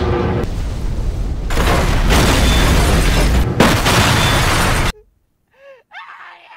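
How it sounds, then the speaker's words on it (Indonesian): A huge explosion in a samurai action film as a man carrying a basket of bombs blows himself up: a loud, sustained roaring blast of several seconds that cuts off abruptly into near silence with faint trailing sounds. "Dan Massa meledakkan dirinya."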